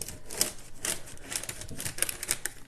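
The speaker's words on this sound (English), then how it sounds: "I'm just rubbing my edge of my fingernail in" A fingernail edge rubbed firmly over decoupage paper laid on painted furniture, giving a run of short, dry, papery scratching strokes at an uneven rhythm, close and fairly quiet with no voice.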